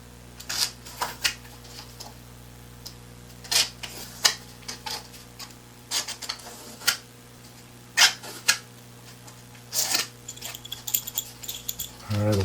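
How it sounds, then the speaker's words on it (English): Scraping strokes of a tool deburring the edge of a 3D printed laser engraving jig, a series of short, close, irregular scratches and clicks at a steady working pace over a low background hum. "you're basically deburring, you're removing this edge so that it's not sticking out as much"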